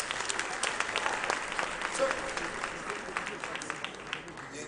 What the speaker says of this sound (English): Can we just have a round of applause for ourselves?